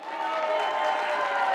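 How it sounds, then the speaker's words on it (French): An audience at a local college talent show final claps for a performer, a dense, even burst of applause filling the room from start to end with no voices standing out. "Une bonne main d'applaudissement pour Peter."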